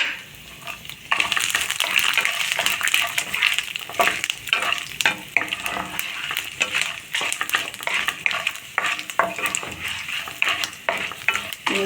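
Grated ginger and cabbage stir-frying in a pan for cabbage rice, with a steady sizzle broken by frequent scraping and clinking from a stirring utensil, close and fairly loud without speech.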